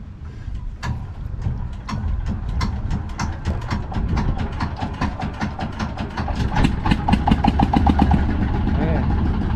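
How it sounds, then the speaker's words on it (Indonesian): A boat motor cranks and catches, then runs with a rising, rapid chugging rhythm, loud and close, with voices talking over it. "Mau nyalain mesin nih."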